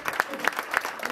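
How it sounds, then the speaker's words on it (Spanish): Brief clapping from guests at a 50th birthday celebration, a few distinct rhythmic claps in a short burst, fairly faint and thin. "Muy bien, fuerte las palmas entonces"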